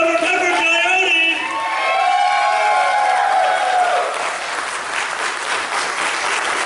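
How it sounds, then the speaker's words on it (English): Loud crowd applause with cheers and whoops for a convention comedy panel's first guest, sustained clapping and shouting from a large audience, with a voice calling out over it early on. "I'd like a huge round of applause for our first guest."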